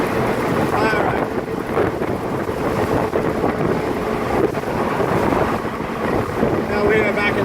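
A 1969 MGC cruising in overdrive at about 70 mph and 2,800 RPM, giving a steady engine drone buried in heavy wind and road rush, with a faint voice over it.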